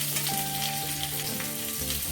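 Potatoes fry in oil in a pan for aloo dum, a soft steady sizzle with faint stirring, low in level and without voices.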